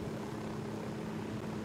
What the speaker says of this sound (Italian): tieni l'elicottero fermo